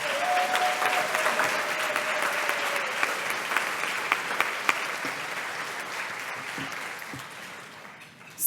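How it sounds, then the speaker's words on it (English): Audience at a 4-H House 85th reunion gives a steady round of applause, broad clapping filling the room for several seconds with a few sharper claps standing out and a brief whistle-like tone early on. "Please give them a round of applause"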